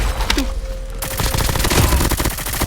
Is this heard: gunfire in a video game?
yes